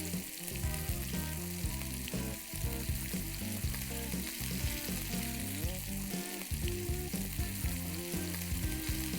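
Rava-coated prawns fry in hot oil, giving a dense, steady sizzle and crackle that carries on without a break, close and moderately loud, with occasional stirring and no speech.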